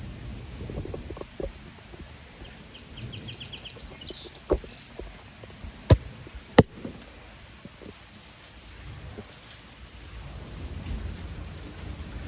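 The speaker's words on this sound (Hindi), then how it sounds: "बारिश काफ़ी तेज़ हो रही है।" Heavy rain falls outdoors with a low rumbling wash, broken by a few sharp drops or taps; no voices.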